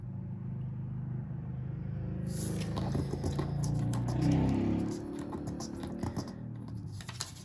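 Road traffic outside a room where a paper craft project is underway, a low steady rumble of passing cars with scattered light taps and rustles nearby, no talking.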